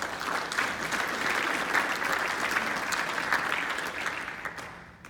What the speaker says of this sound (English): if you guys could give Eagleview a big round of applause for their customer service